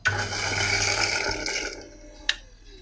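A small grinder grinds steadily with a dense whirring rasp for about a second and a half, then winds down, followed by a single sharp click near the end.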